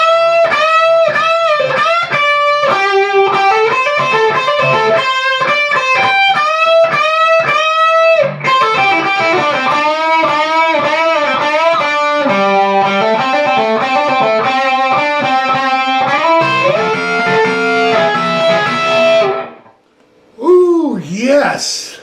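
Distorted electric guitar solo, fast repeated bending licks and runs played loud and continuously for about twenty seconds, ending in a brief pause and a few final bent notes.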